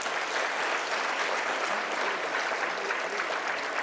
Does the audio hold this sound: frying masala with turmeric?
no